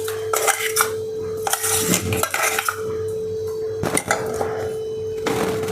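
Metal pots and utensils clatter and scrape in a home kitchen as a ground mixture is moved into a large vessel for a vada curry, with repeated sharp clinks and knocks over a steady background hum.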